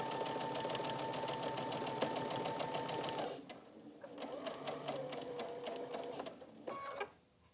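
A sewing machine stitching a quilt block runs in a steady fast whir for about three seconds, pauses briefly, then resumes in shorter quieter bursts before stopping.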